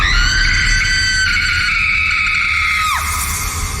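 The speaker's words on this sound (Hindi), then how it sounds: "किसी औरत के कान फाड़ देने वाली चीख सुनकर" A woman's piercing, ear-splitting scream in a Hindi horror audio drama, one loud sustained shriek held for about three seconds before it drops sharply and breaks off.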